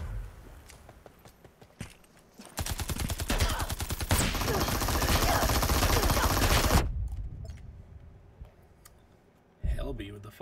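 PPSh submachine gun from the video game Super People, a long continuous burst of rapid automatic fire in the middle, with scattered clicks and footsteps before and after.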